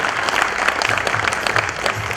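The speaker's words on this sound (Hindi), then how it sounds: "बहुत बड़ी तालियां दीजिए मुझे।" An audience at a labour registration and awareness program claps loudly and steadily in a dense, continuous round of applause with no pauses.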